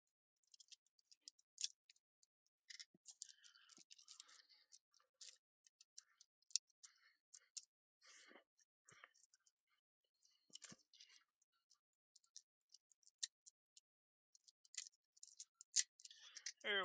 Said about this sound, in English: Easiest way to get it open will just be to cut it open.